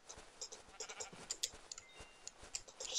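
Sheep bleat repeatedly in Minecraft survival gameplay, short game-sound calls scattered over a busy background of clicks and effects at moderate level.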